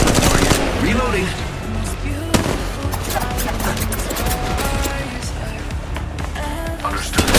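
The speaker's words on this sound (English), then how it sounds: "The enemies are shooting at me." Rapid bursts of enemy gunfire from Apex Legends Mobile crackle almost nonstop, dense and loud, with sharper individual shots cutting through the steady barrage.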